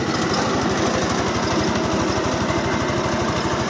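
A converted Forte 10 walk-behind tractor mills hard, unbroken soil with a one-metre rotary cutter. Its small engine runs loud and close with a steady, rapid chugging pulse and a strained mechanical roar, and no voices are heard.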